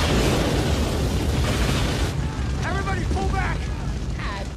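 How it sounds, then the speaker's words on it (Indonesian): A loud, roaring blast fills the first half with heavy rumble and debris noise, then dies down as shouting voices break through. "tiba-tiba terjadi ledakan yang sangat dahsyat"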